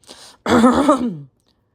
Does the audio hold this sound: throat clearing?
yes